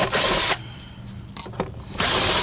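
Power screwdriver backing number 1 Phillips screws out of a Miele vacuum motor: loud whirring bursts at the start and end with a quieter pause between, close up and without speech.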